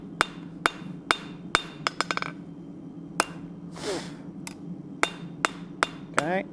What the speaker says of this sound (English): we're just forging it into an oval shape to where we have a flat on the top and the bottom